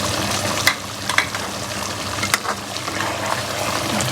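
Ground chili, salt, cumin, coriander and fennel roasting in a pan for chicken biryani, a continuous close sizzle with a few distinct clacks and scrapes of the stirring spoon and no talking.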